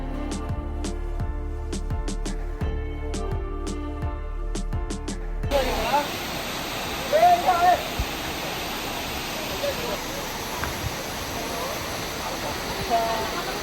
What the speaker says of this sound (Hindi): So this is the Abbey waterfall of Kurg,